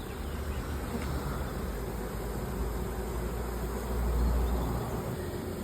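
A secondary swarm of honey bees makes a dense, continuous buzzing drone close by, steady and fairly loud, swelling slightly near the end, with no speech.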